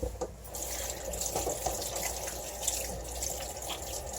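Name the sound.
water washing off soap at the sink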